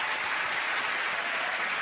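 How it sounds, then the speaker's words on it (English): A studio audience applauds superfans on an Inbetweeners reunion game show, a dense, even wash of clapping that holds steady for the whole short stretch. "Give them all a round of applause"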